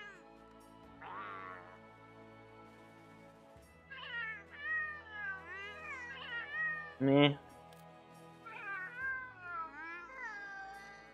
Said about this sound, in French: pendant que le monde créait leur palico là, parce que les bruits de chats ça les faisait bad tripper